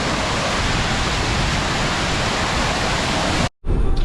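A waterfall on Réunion island, the Niagara falls, pours in a steady, dense rushing roar close by. It drops out briefly near the end and then resumes.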